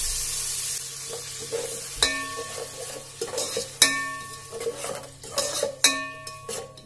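Ginger garlic paste and yogurt fry in a pan for chicken biryani, a soft sizzle under repeated metallic clinks and scrapes of a spoon stirring against the pan, several bright ringing taps standing out; no voices.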